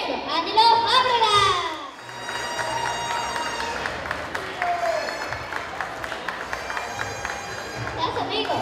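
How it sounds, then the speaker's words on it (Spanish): Audience applause and cheering at a children's singing contest final as a nine-year-old ranchera singer is welcomed, clapping and crowd noise under an amplified voice that talks over it at the start. "Recibamos con un fuerte aplauso al Charrito Negro, Ánilo Fábrega."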